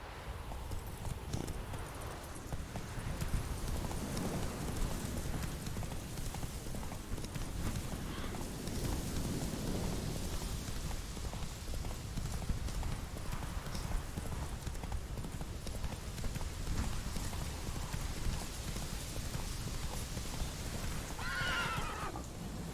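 Rhythmic clip-clop of a horse's hooves in The Witcher 3, running steadily throughout over ambient game sound, with a neigh near the end and occasional quiet talk.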